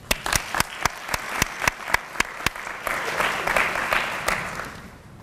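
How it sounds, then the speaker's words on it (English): An audience at a HOSA closing session applauds, a few sharp individual claps standing out at first before blending into a dense, steady round of clapping that fades slightly toward the end. "I want to give a round of applause to the students who didn't get to speak"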